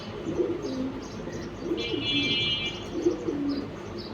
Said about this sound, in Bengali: লালবাগ সাগর ভাইয়ের বাসার কবুতর সব